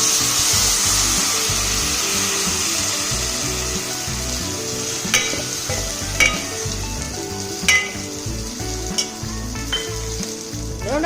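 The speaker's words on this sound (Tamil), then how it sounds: "இப்போ இதோட கரைச்சி வடிக்கட்டினா புளியை ஊற்றிடுறேன்." Tamarind water going into a pan of sautéed ivy gourd, raising a loud continuous sizzle with stirring and several brief utensil knocks toward the end, close and without speech.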